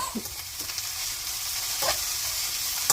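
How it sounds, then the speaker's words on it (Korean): Dried anchovies stir-fry in a pan over high heat, giving a steady close sizzle with a few scraping stirs of the spatula. "이제 멸치를 볶아주는 거예요."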